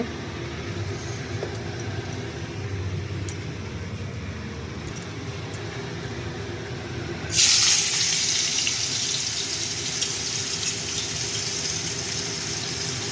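Radish shreds drop into hot oil tempered with mustard seeds, setting off a sudden loud, bright sizzle that stays steady and close after a quieter stretch of low kitchen hum.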